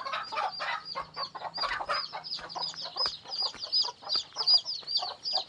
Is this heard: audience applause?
no